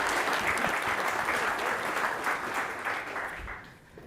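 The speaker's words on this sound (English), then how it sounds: "Give them a round of applause." Audience at a public-sector governance conference claps in a full, steady round of applause that tapers off toward the end as the hands die down.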